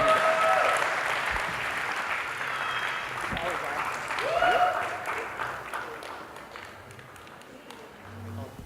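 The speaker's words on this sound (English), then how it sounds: "A big round of applause to Hamish." Wedding reception guests clap in a moderate round of applause, fairly close, swelling briefly midway before tapering off, with voices mixed in beneath the clapping.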